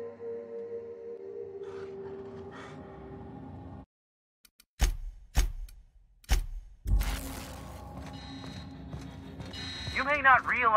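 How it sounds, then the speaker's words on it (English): A station lockdown alarm blares in The Outer Worlds, with a loud repeating pulsing tone. Hard, evenly spaced blasts come after a sudden drop to silence, then a steady droning siren with rising wails, and a voice talks over parts of it. "the blaring alarms indicate the station's on lockdown"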